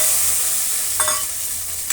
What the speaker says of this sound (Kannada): ಈಗ ನಾವು ಅದೇ ಬಾಣಲಿಗೆ ಕಿವುಚಿಟ್ಕೊಂಡಂತಹ ಹುಣಸೆ ರಸ ಹಾಕೋಣ